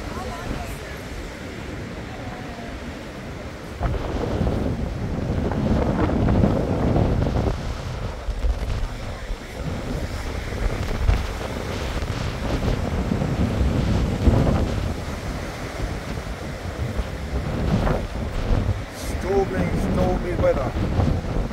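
Stormy, choppy sea at Lyme Regis beach: heavy wind buffets the microphone while waves surge and crash continuously, with a voice talking at times over the roar.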